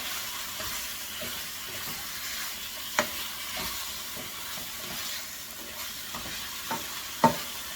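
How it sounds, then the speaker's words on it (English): Three onions stir-fried in a pan with steak, a soft continuous sizzle broken by the occasional scrape and knock of a utensil stirring, one sharper clack near the end. "All right, 3 onions. I'm going to go ahead and throw those things in there now. Stir it up just a tad bit more."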